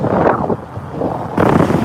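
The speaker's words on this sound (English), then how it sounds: "But it is mad windy." Strong wind in Yakima, Washington buffets the microphone in loud, rumbling gusts that ease briefly in the middle before roaring back.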